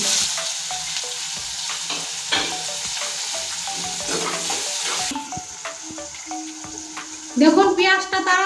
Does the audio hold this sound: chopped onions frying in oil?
yes